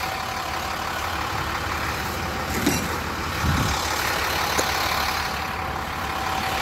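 A truck engine idles in a steady low rumble as the dump body tips up by the roadside, with faint knocks and a brief surge partway through under a broad wash of noise.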